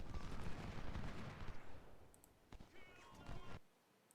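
Rolling musket and artillery fire from a Civil War battle in the game Ultimate General Civil War, dense crackling volleys at a distance, with scattered sharper reports later before cutting off.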